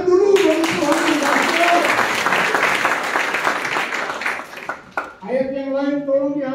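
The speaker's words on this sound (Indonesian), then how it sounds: "Tepuk tangan dulu bagi Tuhan kita." A congregation at a Sunday worship service at a theological college breaks into loud, dense, sustained applause for about five seconds, then the clapping fades and a voice resumes speaking.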